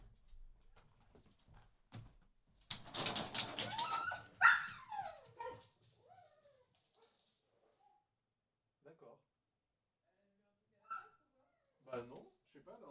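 A dog lets out a burst of barks and yelps at close range in rural Camargue, then falls quiet while a voice speaks in short bursts.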